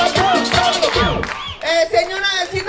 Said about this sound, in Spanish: ¡El aplauso y el grito de este lado!